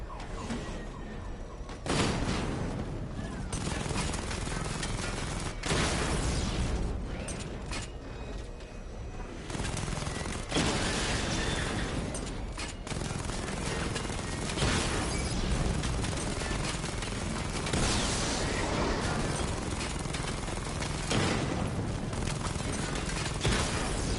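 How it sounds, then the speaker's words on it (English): A Batmobile missile barrage in Batman: Arkham Knight fires continuously, a loud sustained roar broken by repeated sharp launch bursts and whooshes, with no talk over it. "Charge the missile barrage to level 2 to destroy up to 4 targets at once"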